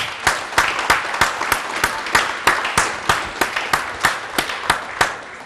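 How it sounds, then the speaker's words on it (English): Audience at a public safety career award ceremony clapping for a reverend, loud near claps landing in a fairly regular rhythm over a softer bed of crowd applause. "let's give again another round of applause, Reverend Davidson."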